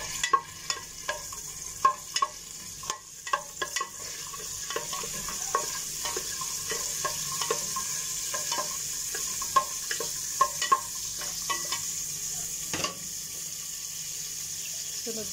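Garlic and onion stirred together in a frying pan for beef asado, a steady sizzle with frequent sharp scraping clicks of a utensil against the pan, close and continuous, no voices.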